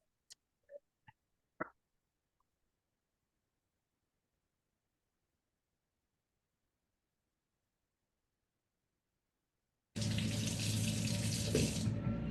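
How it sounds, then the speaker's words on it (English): Following a long quiet stretch with a few faint clicks, a kitchen tap bursts on and water runs steadily and fairly close for hand washing. "And now I'm going to wash my hands very well"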